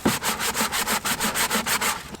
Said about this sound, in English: go in there with sandpaper and make sure it's smooth so it has a nice tight seal